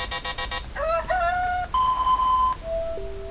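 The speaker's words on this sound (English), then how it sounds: "you can choose some of these preset alarm sounds here at the bottom, and they're anything from chirping" Preset chirping alarm tone from the iPhone alarm app: a quick run of bright repeated electronic chirps, then sliding bird-like tones and steady beeping pitches, played clearly and alone with no voices.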